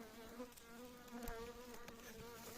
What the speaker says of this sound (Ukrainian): Так, бджола прилетіла.